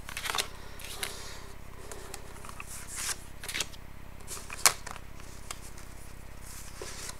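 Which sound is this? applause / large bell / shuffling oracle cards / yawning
shuffling oracle cards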